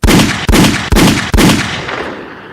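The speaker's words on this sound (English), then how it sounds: "Give me my gunshots." Four loud gunshot sound effects fire in quick succession in a radio studio, each a sharp blast with a short ringing tail, the last one fading out slowly.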